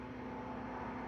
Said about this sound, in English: So that's a propeller plane.